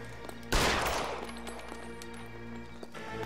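A single loud gunshot burst in a video game cracks out over a steady hum of background music and ambience, decaying over about a second, with faint clinks afterward.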